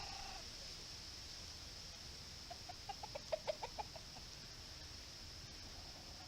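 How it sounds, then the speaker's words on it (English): Native chickens clucking in a rural yard in Camiguin, Philippines, a short run of faint, evenly spaced clucks over a steady background hiss, with no talking. "I'm not sure if that's a native chicken or not."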